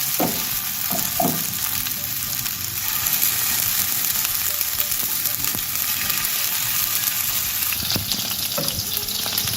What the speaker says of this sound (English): So here's our pan, we have added oil. We are going to put the balls one at a time.